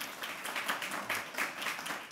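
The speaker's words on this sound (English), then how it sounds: "why don't we give a round of applause to these folks" Audience applause at an event on environmental justice, faint and distant clapping in soft pulsing waves throughout.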